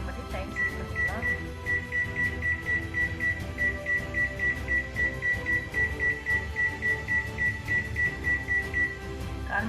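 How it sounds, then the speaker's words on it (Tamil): A microwave oven set with a timer gives a steady high electronic tone over a pulsing, rhythmic hum. The sound is moderately loud and continuous for the whole stretch. "நம்ம மைக்ரோ ஓவன் பண்ணி டைம் செட் பண்ணிக்கலாம்."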